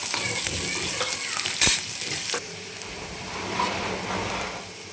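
Onion frying in a pan for tawa besan (pithla), a steady broadband sizzle with stirring scrapes and a brief louder burst of spatter partway through.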